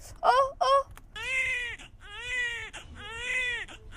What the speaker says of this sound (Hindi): बेबी की तो रोने की आवाज आ रही है।